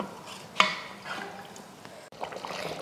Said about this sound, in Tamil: நல்லா கொதிக்க ஆரம்பிச்சிருச்சு.